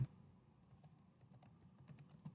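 Soft, quick clicks of keys being typed on a computer keyboard, irregular and faint, in a quiet room.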